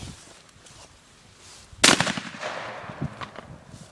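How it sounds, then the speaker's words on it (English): A single sharp, loud blast from a double-barrel shotgun firing a slug at a target, cracking out of quiet outdoor ambience and trailing off into a brief rumbling echo. "we're going to be shooting the left end with a double barrel shotgun just to see what it does."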